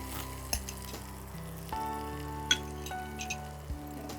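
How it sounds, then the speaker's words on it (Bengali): Kajoli fish curry (tel jhal) simmers in a pan with a steady low sizzle and bubbling, punctuated by a few soft clinks and stirring bumps, close and alone with no talking. "মানে ফুটফুট করছে"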